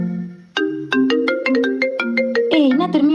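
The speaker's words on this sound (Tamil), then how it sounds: "என்ன திரும்பியும் ஃபோன் வருது?" Mobile phone ringtone playing a bright electronic melody of quick clear tones in a steady rhythm, starting after a soft low hum and building louder toward the end, close and without talk.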